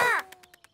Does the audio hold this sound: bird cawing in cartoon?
yes